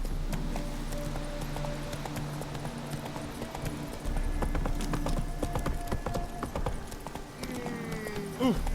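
The horse Roach in video game The Witcher 3 gallops with a rapid, rhythmic clip-clop of hooves, close and continuous under background music and ambient game noise, with a brief voice heard.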